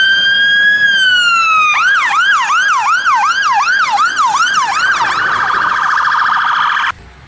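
A loud fire truck siren sounds nearby, starting with a long rising wail, then switching to fast repeated yelps before a steady tone cuts off abruptly.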